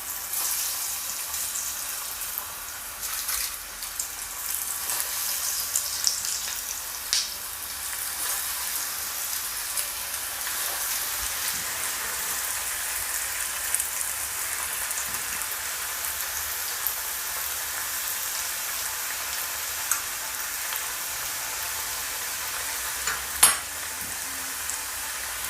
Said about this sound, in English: So once your oil is hot enough, just get a few pieces at a time, drop them in the oil